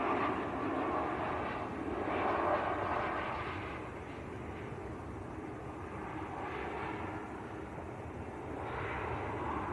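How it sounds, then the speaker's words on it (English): Lufthansa City Airbus A320neo from Munich on short final into Manchester Airport, a steady broadband engine roar that swells and fades slightly across the pass, moderately loud and continuous with no voices. "Lufthansa on short finals. A320 Neo from Munich."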